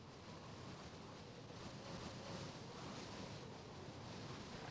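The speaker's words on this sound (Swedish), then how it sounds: "Havet, en sandstrand i Normandie," Sea waves and wind roll over a sandy beach in Normandy, France, on a damp, cold December day. A broad, steady roar of surf is buffeted by gusts, and no voices are heard.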